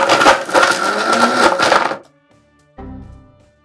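A blender grinds strawberries with sugar in a loud, rough burst for about two seconds, then cuts out, followed by a brief second short whir.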